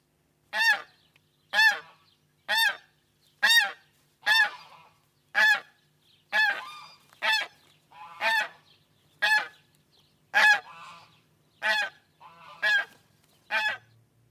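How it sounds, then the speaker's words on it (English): Repeated loud honking calls from ducks and geese, about fourteen evenly spaced over the stretch, close by with quiet between each one. "Those be my ducks and geese."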